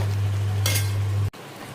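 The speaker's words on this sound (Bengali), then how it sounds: "এবার জল গরম করে রেখেছি, সেই গরম জলটা এর মধ্যে দিয়ে দেবো।" Hot water poured into sizzling mutton curry in a pan, with a continuous loud hiss and bubbling over a low hum and a brief burst of sharper spattering, which ends abruptly.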